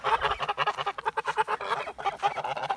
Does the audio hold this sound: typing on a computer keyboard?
no